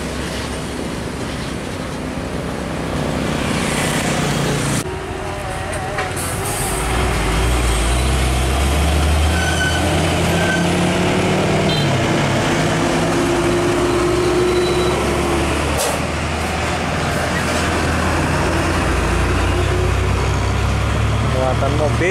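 A heavy trailer truck loaded with motorbikes and Daihatsu cars drives along the winding Jalingkut road, its engine a loud, steady low rumble throughout, with people talking nearby.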